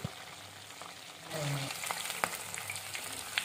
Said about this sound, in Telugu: ఇలా గోల్డెన్ బ్రౌన్ కలర్ వచ్చే వరకు ఫ్రై అయిన తర్వాత వీటిని తీసి పక్కన పెట్టుకుందాం.